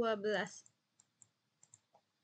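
Computer keys and a mouse give a handful of light, sparse clicks spaced irregularly, quiet and close, right after a brief stretch of speech.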